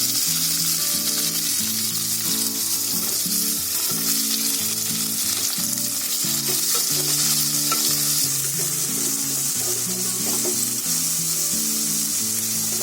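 Chopped ginger, garlic and green chilies sizzle and crackle steadily in hot oil in a pan for a prawn chili dish, with occasional stirring scrapes, close and loud throughout with no voices.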